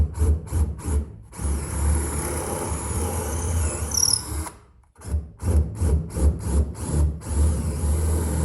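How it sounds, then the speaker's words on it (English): A power drill with a 3/8 inch bit bores holes in scrap wood for a homemade pocket hole jig. It whirs loudly and close in quick short bursts, then in one long continuous run, then in another string of brief pulses. "Next, let's take a 3/8 inch drill bit and drill these holes out one more time."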